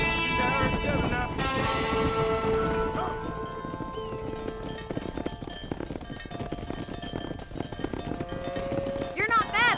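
A herd of horses and cattle running during a ranching drive in Red Dead Redemption, with clip-clopping hooves, neighs and bellows, overlaid by music and someone talking.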